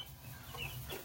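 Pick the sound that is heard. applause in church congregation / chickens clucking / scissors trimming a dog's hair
chickens clucking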